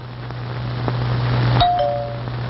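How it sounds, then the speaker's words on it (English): A doorbell sounds alone, a low sustained buzz followed by a clear two-note ding-dong chime that rings out and fades against faint background hiss. "Doorbells."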